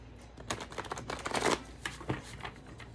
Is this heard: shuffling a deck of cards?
yes